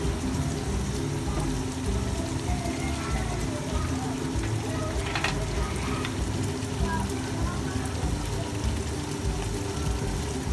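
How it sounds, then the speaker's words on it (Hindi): Soy sauce poured into a pan of frying vegetable pulao, giving a steady close sizzle and crackle that holds evenly throughout with no talking. "तकरीबन 2 चम्मच हम ये सोया सॉस के डालेंगे।"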